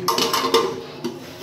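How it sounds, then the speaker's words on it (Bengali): A metal lid is set onto a pot of fish curry (bata fish jhal), giving a short clatter and a couple of light clinks up close, with no talking. "ঢাকা দিয়ে দিব"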